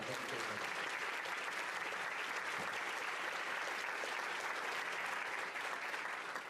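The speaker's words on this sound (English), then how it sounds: "All right, let's give them one more round of applause." Audience applause at a sixth grade promotion ceremony, a steady, dense wash of many hands clapping that holds evenly throughout without pause.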